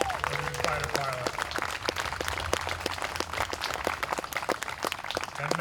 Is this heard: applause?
yes